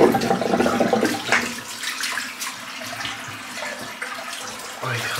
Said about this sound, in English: let's just wet the noggin again